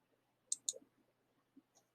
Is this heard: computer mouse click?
yes